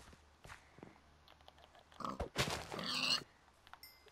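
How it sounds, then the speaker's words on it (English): Pigs in the video game Minecraft give short oinks and grunts, several bursts clustered near the end over quiet footsteps, fairly close, with no talking. "There's a lot of pigs over here."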